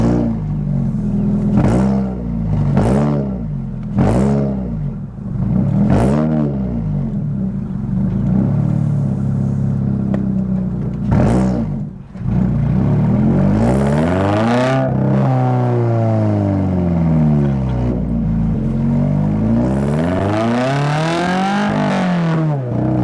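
A Toyota GR86 fitted with an AWE Touring exhaust drives on a street, its engine note rising and falling through repeated revs and gear changes. The exhaust sounds loud and close, with a deep rumble that sweeps up and down.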